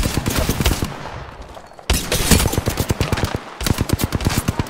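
Rapid automatic gunfire bursts in Apex Legends, loud and close, three volleys of fast repeating shots separated by brief gaps.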